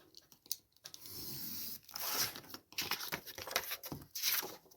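Paper being cut and torn away for a winter envelope trifold craft booklet, close and crisp, in rapid rustling, scratchy bursts separated by brief pauses, with no voices.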